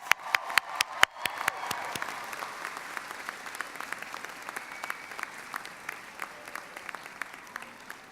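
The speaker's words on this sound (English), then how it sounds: "Let's give them a round of applause." A crowd applauds at the North Shore Community College 2018 commencement ceremony, with sharp individual claps standing out at first before settling into a sustained, even patter.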